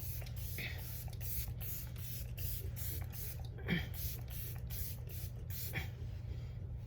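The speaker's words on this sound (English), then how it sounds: "I think this setting spray has more product than my NYX one." Wet n Wild makeup setting spray misted in a rapid series of short, even bursts, close and fairly quiet over a steady low hum, with no talking.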